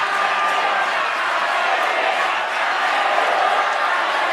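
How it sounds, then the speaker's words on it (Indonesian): Supporters in a hall at a gubernatorial candidates' debate cheer and shout over clapping, producing a loud, continuous crowd roar that holds steady throughout. "memberikan tepuk tangan yang meriah bagi keempat pasangan calon"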